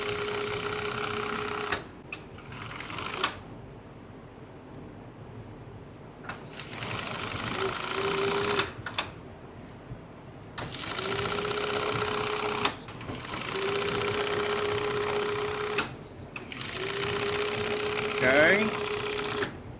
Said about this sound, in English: as I'm sewing here, we're winding a good bobbin